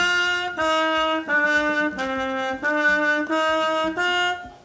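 Trumpet played with free, easy airflow and a clear, ringing tone, a short series of sustained notes with brief breaks between them, loud and close, with no voices.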